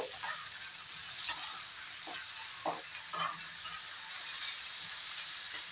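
Egg masala frying and being stirred in a pan over lowered flame, a steady sizzling hiss with a few soft scraping stirs scattered through.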